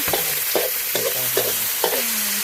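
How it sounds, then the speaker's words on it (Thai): Fish stir-fried in a pan at a small Thai noodle shop, loud hissing sizzle with a quick series of four or five metal spatula scrapes and clangs. "แล้วก็ใส่ปลาไปต้องผัดปลาด้วยนะ"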